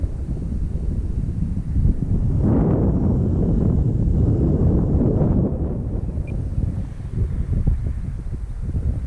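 Strong wind buffets the microphone outdoors for the whole stretch, a dense low roar that surges louder in the middle and stays steady, with no talking over it.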